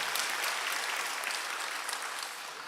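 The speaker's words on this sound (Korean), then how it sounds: "하나님께 영광의 박수 올려드립니다." A church congregation applauding during an Easter Sunday service, dense sustained clapping from many hands filling the room, fading slightly at the end, with no speech over it.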